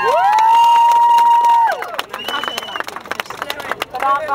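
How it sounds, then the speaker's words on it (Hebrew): Crowd at an anti-fur rally in Tel Aviv clapping and cheering, opening with a loud sustained shout that gives way to bursts of clapping and crowd noise. "תודה על מחיאות הכפיים"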